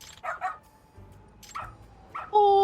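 Small dog barks in the video game Lost Judgment, a few short yips and woofs spaced apart at moderate loudness, ending with a brief higher whine.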